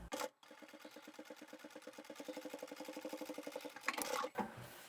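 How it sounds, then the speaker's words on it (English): A sewing machine stitches close to the folded edge of a towel in one steady run of rapid rhythmic needle beats, close and quiet, between short handling noises. "I'll just stitch really close to that folded edge"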